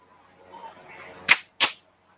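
Two sharp gunshots roughly a third of a second apart ring out at a single action shooting match, loud and close over a faint background murmur.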